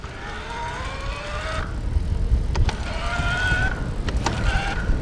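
An Easy Motion Bosch Cross electric bike's motor in turbo mode whines in rising and falling tones as it kicks in and cuts out under pedalling, steady road noise underneath.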